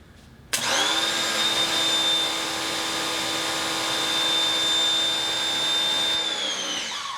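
A Craftsman 1900 psi, 1.2 gpm electric pressure washer fitted with a 3.0 nozzle starts abruptly and then runs with a steady loud motor whine and hiss, close by, winding down at the end.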